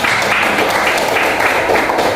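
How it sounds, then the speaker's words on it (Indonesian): Students in an Indonesian classroom clap their hands together in a dense, steady round of applause that fills the whole stretch at an even loudness. "Oke, tepuk tangan."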